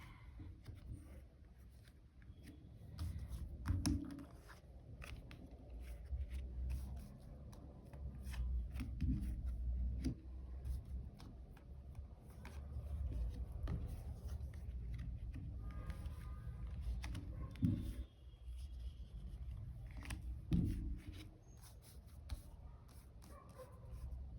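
Tarot-style cards shuffled and handled for a card reading, producing soft rustles, rubs and occasional light taps that come and go over a low background hum, close by and fairly quiet.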